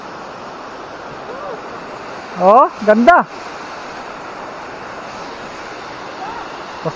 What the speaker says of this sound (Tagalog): Bumabagsak yung tubig.